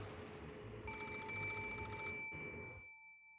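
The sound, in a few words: telephone bell ringing through a room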